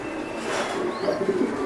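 Racing pigeons coo softly and steadily from close range in a loft holding fifteen birds, with a low, continuous murmur and a brief louder knock at the very end.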